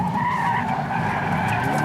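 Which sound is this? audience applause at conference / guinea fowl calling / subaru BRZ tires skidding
subaru BRZ tires skidding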